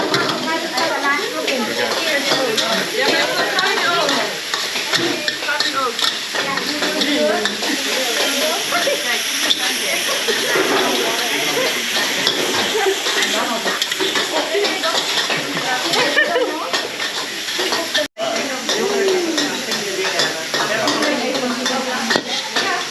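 Noodles stir-fry with sausage, egg and oil in a hot pan at a Thai cooking class in Chiang Mai, giving a steady loud sizzle with constant scraping and clinking of utensils, while people talk throughout.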